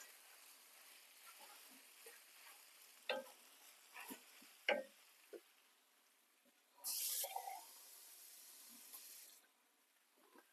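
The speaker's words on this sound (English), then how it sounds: "just going to deglaze that with a little bit of water" Water hits a hot stir-fry pan for beef, giving a sudden loud sizzling hiss that lasts about two seconds. Scraping and stirring sounds come before it, and a quieter sizzle continues after.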